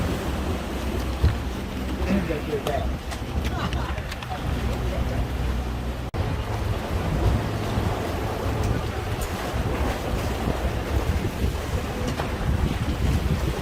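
Wind buffets the microphone over the steady rush of a glass-bottomed tour boat moving through water, with people talking intermittently.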